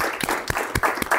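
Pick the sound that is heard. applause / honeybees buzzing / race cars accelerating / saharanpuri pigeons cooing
applause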